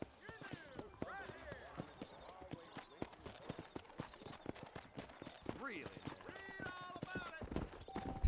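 Horse hooves clip-clop in quick rhythmic beats as a horse runs in the video game Red Dead Redemption, with a whinny partway through and voices talking over the galloping.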